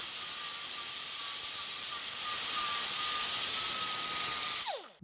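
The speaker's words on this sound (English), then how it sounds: "If you have a little bit of rust like on my piston here, what I like to do is just grind it down a bit." A grinder takes rust off the brake caliper piston of a 2018 Hyundai Elantra, making a steady, loud hiss with a thin whine for several seconds before it cuts off and spins down.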